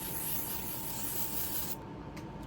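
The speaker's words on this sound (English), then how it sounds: "It's the L'Oreal setting spray" A L'Oreal makeup setting spray is misted onto a face as a steady, breathy hiss that lasts almost two seconds, then fades to a softer hush. The sound is quiet and close, with no talk.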